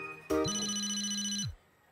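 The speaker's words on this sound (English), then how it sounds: "I thought I just heard Ronnie Anne's phone ringing from that tippy on stage." Mobile phone ringing from a tent on a stage in an animated show, a single electronic ring tone with a sharp onset that holds steady, then cuts off.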